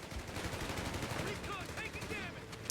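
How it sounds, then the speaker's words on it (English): MG42 machine gun firing in Company of Heroes 3, dense rapid bursts of gunfire with battle noise throughout, steady and loud, with brief voice-like tones partway through. "MG42 putting a heck ton of damage down on the Jeep, forcing it off"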